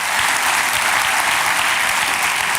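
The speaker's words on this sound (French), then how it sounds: "Applaudissons le Seigneur." A church congregation applauds during a French-language sermon, a dense, steady wash of many hands clapping at once that holds evenly from start to finish with no voices rising above it.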